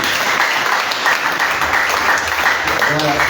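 A church congregation at a New Year's Eve vigil claps continuously and fairly loudly, with voices calling out under the applause.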